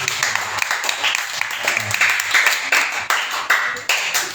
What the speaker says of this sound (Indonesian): Beri tepukan yang gemuruh bagi Tuhan.